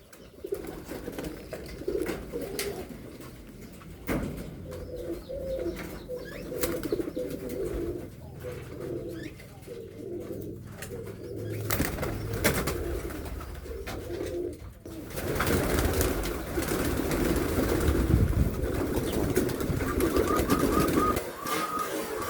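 Pigeons are let into a colony aviary, giving off soft cooing and scattered wing flutters and shuffles close by, with a burst of busier flapping and movement in the latter half.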